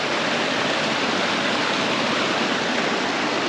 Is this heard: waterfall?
yes